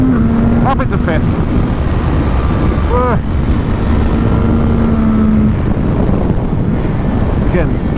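A CFMOTO 675 SR-R supersport motorcycle engine drones steadily at speed, buried under heavy wind roar, with brief rising pitch sweeps as it shifts up into fifth.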